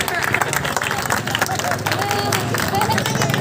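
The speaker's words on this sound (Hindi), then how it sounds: "ये है आज के मेहमान खुसूसी और इनके लिए भरपूर तालियां बजाएं।" A political rally crowd in Hyderabad claps for the chief guest, a steady, busy patter of many hands blended with loud crowd chatter and voices throughout.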